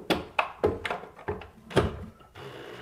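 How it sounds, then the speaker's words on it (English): A small 12 volt screw gun drives a screw into an old work box beside a cabinet, giving a quick series of close, uneven knocking thunks and clicks that settle into a softer whir at the end. "So have a little 12 volt screw gun here."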